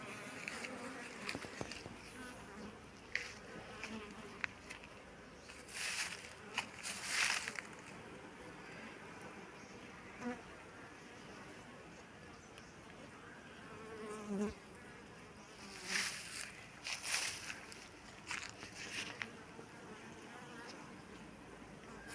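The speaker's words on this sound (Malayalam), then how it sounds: "ആ തട്ട് നിറഞ്ഞ് അതിനകത്ത് ധാരാളം ഈച്ചകൾ പിന്നെ വിരിഞ്ഞിറങ്ങിക്കൊണ്ടിരിക്കുകയാണ്" Honeybees swarm over a full super frame of honeycomb lifted from a hive during honey harvesting, a faint continuous buzz with louder swells as bees pass close, and no talk.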